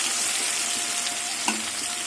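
Shrimp sizzling in a hot pan while being stirred, a continuous close frying hiss with occasional scraping and one sharp clink of the utensil against the pan, no talking.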